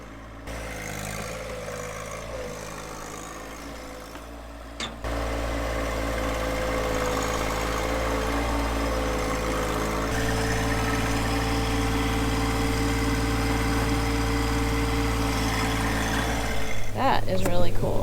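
A John Deere 1025R compact tractor grading soil into a slope beside a new pole barn, its engine running as a steady, close, continuous drone with a brief dip near the start and a slight rise in load at the end.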